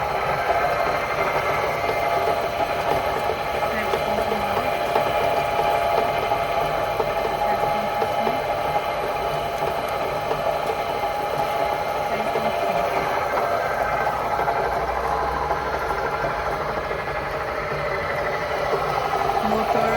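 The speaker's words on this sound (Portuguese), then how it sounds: "fazer o teste desse misturador de tinta. Pode ligar. Funcionando certinho." A vertical stainless planetary sigma mixer for paint and putty, driven by an old 5 HP 1,700 RPM motor, runs with a continuous dense mechanical hum and whir, steady and close throughout.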